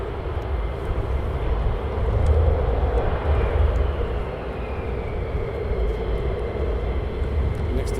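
Fighter jet at RAF Lakenheath producing a broad, distant roar that swells and fades over several seconds, with wind noise present.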